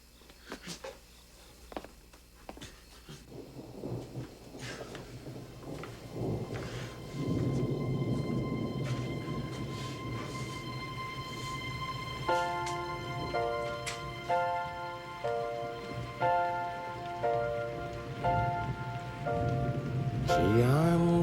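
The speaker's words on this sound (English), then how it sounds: "Gee, I'm glad it's raining." Steady rain patters on a surface at a summer camp, a dense continuous hiss that grows heavier partway through, while soft sustained musical tones enter later; no distinct thunderclap stands out.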